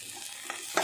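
Eggplant and tomato with chili powder and turmeric sizzle in a pan for a black-eyed pea curry, with a quick scrape of stirring and a brief sharp frying crackle.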